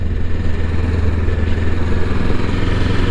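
A Sinnis Terrain T380 motorcycle being ridden, its engine droning steadily and close with a low, continuous mechanical rumble and some clattery texture, no voices over it.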